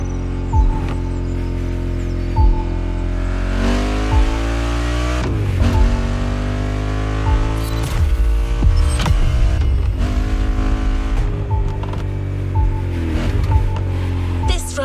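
A race car engine in The Crew Motorfest revs hard at a drag race spot, with repeated rising and falling pitch sweeps over a steady, loud, close rumble that runs throughout.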